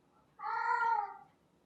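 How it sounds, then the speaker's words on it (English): A house cat gives a single drawn-out, tonal meow of about a second, clear and fairly close against a quiet room. "sorry about that noise in the background. That's my cat."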